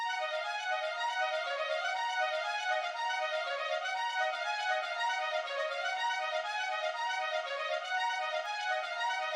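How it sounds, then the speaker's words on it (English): Sustained synthetic orchestral string tones play a slow, layered melody with steady harmonics for eight measures, alone and evenly loud throughout. "To round out our string melodies, we have this second variation,"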